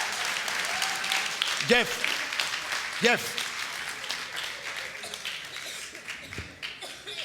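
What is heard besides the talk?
church congregation applauding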